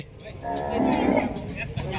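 Cattle at a livestock market in Yasothon, Thailand, give a loud, drawn-out moo lasting over a second, with crowd murmur and market bustle around it.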